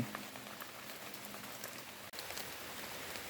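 Steady rain patters softly and evenly in a forest, a continuous hiss of drops falling on leaves with no voices.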